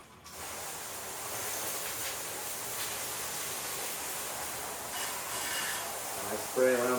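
A hose spraying water around the inside of a large tumbler full of dirty, sudsy water, a steady, continuous hiss of spray lasting several seconds at moderate distance.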